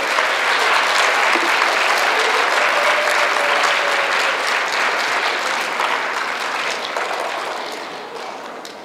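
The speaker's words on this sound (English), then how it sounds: "Let's give them a big round of applause." An audience at a school awards assembly applauds fourth grade honor roll students, with a dense, sustained burst of clapping from a crowd that holds steady and then tapers off at the end.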